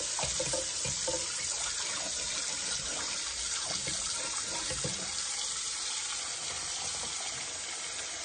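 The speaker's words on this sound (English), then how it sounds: "Put some hot water in." Hot tap water runs steadily into a greasy pan after frying bacon, a continuous loud close-up gushing and splashing that fills the sink with no talking.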